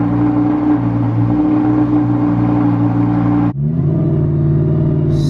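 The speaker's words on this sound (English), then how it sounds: "This is a Las Vegas cold start." A Lamborghini Huracan cold start in Las Vegas, its engine holding a loud, steady high idle drone that suddenly drops to a lower, calmer idle rumble partway through, close and dominant.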